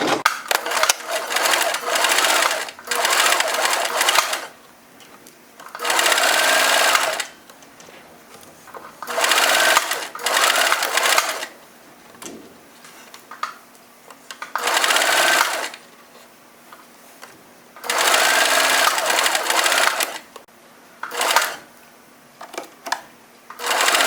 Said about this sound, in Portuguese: Eu vou costurar agora rente ao cordão.